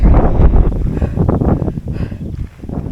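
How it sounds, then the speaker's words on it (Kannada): Wind buffets the microphone in low, continuous gusts on the foggy hilltop trail of Skandagiri near Bengaluru, with rough rumbling and rustling, steady and close throughout, with no voices. "ಗಾಳಿ ಚೆನ್ನಾಗಿದೆ, ಫುಲ್ ಫಾಗಿ"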